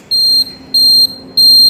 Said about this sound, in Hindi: ये दूसरा वाला इंडिकेटर बज रहा है इसके बज़र के साथ